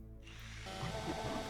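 A bone-saw chainsaw weapon in the Doom mod Eraser whirs and revs with a steady mechanical buzz that swells into a grinding rattle, heard alone and fairly quiet for about a second and a half.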